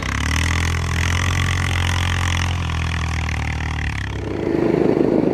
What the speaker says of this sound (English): We are on a Royal Enfield Himalayan from 2019. It's been modded out.